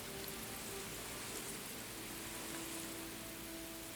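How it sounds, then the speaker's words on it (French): Even, constant rainfall makes a broad hiss, unbroken for the whole stretch, fairly quiet with a low steady drone beneath. "la pluie tombe,"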